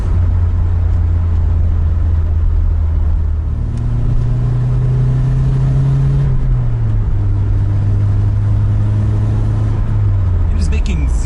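A Nissan 200SX with a long-nose R200 differential drives along, its engine droning steadily while a higher whine rises and falls over the motor in a supercharger-like tone.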